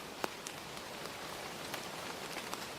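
Steady rain as a soft, even hiss with faint scattered drop ticks and no voices, heard at an entrance to old stone buildings in Dublin.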